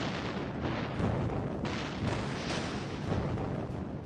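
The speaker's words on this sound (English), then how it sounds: "big gun battleships, 8, 10, 12 at a time, lobbing one-ton shells at each other" Big naval guns on a battleship firing heavy shells, heard as a dense, continuous rumble of overlapping deep booms with no pauses between them.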